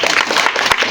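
Applause at a school event for a girl's speech, a dense, loud wash of many hands clapping together, steady and close throughout the brief moment.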